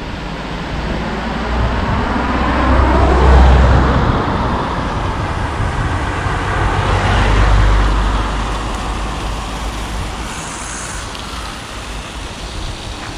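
A WLtoys 144001 RC car runs fast on a 2S battery, giving a continuous high electric motor whine with gear noise and rushing rumble that swells and fades as it passes, loud and steady over the whole stretch, with no talking.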